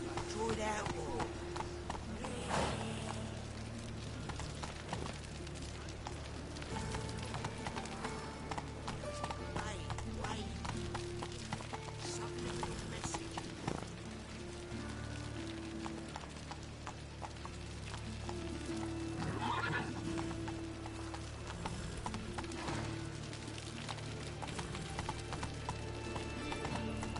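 Hooves of the horse Roach clip-clop steadily at a run in The Witcher 3, with occasional neighs, under ongoing character dialogue and background game music.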